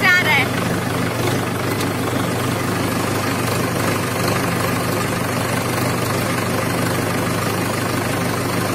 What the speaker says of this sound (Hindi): आज मैं ट्रैक्टर चला रही हूँ अपने खेत में